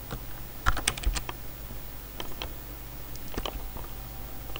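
Code being typed into Visual Basic 2008 on a computer keyboard: an irregular flurry of close, crisp keystrokes, heavier at first and then sparser taps, with no voice.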